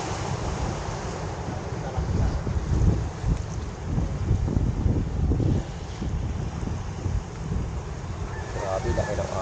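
Big, rough sea waves and strong wind surround a fishing spot, with loud, continuous gusting rumble against the microphone and surging surf that swells and eases over several seconds.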